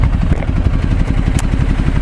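A Ducati Multistrada 1200 ridden through Seattle with its engine, exhaust and cut-off roaring steadily up close, a loud continuous throbbing drone with a dense pulsing rhythm and no voices.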